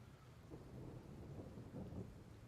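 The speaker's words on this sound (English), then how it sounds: "Nice little in-game thunder in the background there." Distant rumbling thunder with steady rain in the background of the fantasy role-playing video game Baldur's Gate 3, a low continuous roll swelling twice and never fully fading, with no one talking.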